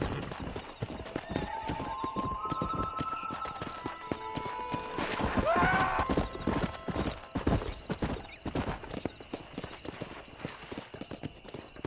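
A horse gallops in Red Dead Redemption, rapid rhythmic hoofbeats pounding close throughout, with a neigh midway and game music and effects layered over the hooves.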